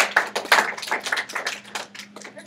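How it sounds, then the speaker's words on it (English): A small group claps for a team after a class presentation, a brief patter of hands with uneven, fairly sparse strikes close by, fading slightly toward the end. "I would like everyone to give a round of applause for my great group."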